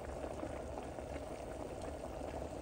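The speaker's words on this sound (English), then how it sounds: "we're going to get back up to a rolling boil" A pot of rice at a rolling boil bubbles steadily and fairly quietly, a continuous close gurgling hiss with no talk.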